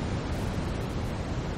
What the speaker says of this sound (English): That is a waterfall indeed.